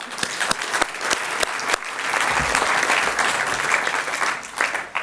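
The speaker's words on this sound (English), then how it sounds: "A big applause for yourself." Audience at a 2019 general assembly in Amsterdam applauds after election results, steady clapping from many hands filling the room for several seconds, close and sustained.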